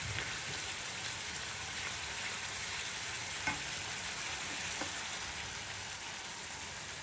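Taro and spice masala frying in oil in a pan, a steady dense sizzle and crackle close by, continuous with a few faint clinks.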